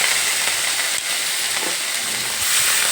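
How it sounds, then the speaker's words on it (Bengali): Onion paste sizzles in hot oil with seasoning spices for a spiced pointed gourd dish, giving a steady, loud frying hiss with faint stirring clatter underneath. "এবার এর মধ্যে একটা পেঁয়াজের পেস্ট দিয়ে দিলাম।"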